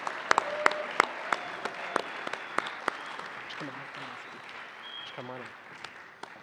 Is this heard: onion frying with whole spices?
no